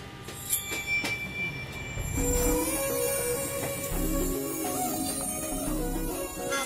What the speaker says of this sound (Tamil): ட்ரெயின் வேற கிளம்புது.